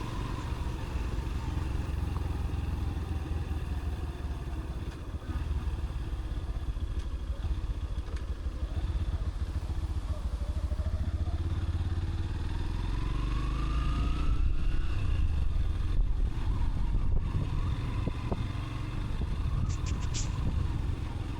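A motorcycle rolls along a rural riverside road on the bank of the Rupsa in Khulna, its steady mid-pitched engine drone and wind rumble continuous and close, with light clatter and a slight rise in revs partway through.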